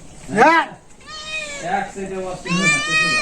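A cat meows close by several times, drawn-out rising and falling cries with short gaps between them.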